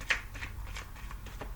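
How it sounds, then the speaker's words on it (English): Tarot cards being shuffled by hand, a rapid run of soft papery riffles and slaps repeating close to the microphone with no voices. "Okay, let me keep shuffling."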